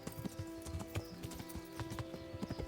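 Hoofbeats of ridden horses clopping in a steady, overlapping rhythm in a medieval Bohemian setting, close and clear over a constant low background hum, with no talking.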